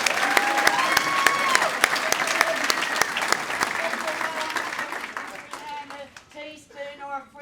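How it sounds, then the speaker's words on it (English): A round of applause at a high tea event, steady clapping from an audience that gradually thins out, with voices and chatter emerging as it fades. "I think we need a special round of applause for Mozzie as well."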